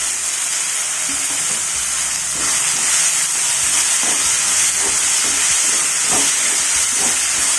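Tomatoes and green chillies sauté loudly in a pan, giving a dense, hissing, steamy sizzle with repeated spoon knocks and scrapes as they are stirred, no talking.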